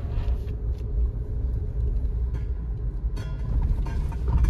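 A Suzuki Jimny with an automatic gearbox cruises on a highway with the air conditioning on, giving a steady low road and engine rumble that holds constant throughout, with no voices.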